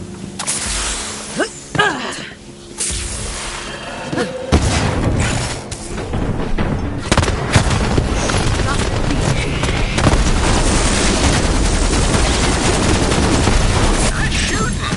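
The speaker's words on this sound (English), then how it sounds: "Nice shooting." Gunfire in a video game hunt: a few sharp isolated shots followed by a dense, continuous barrage of rapid blasts and booms, with voices talking over parts of it.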